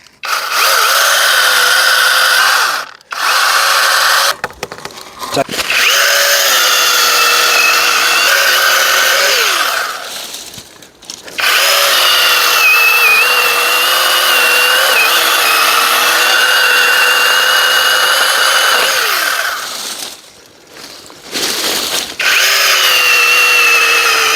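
A chainsaw cuts apple tree wood during orchard pruning, its loud high-pitched engine whine holding steady through long cuts and dropping briefly between them, very close.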